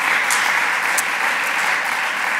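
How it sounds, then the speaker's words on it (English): An audience in a large conference hall applauds award recipients, a dense and steady clapping that fills the room at close range, with no talking. "So I want to, again, give a round welcome and applause to all the poster awardees."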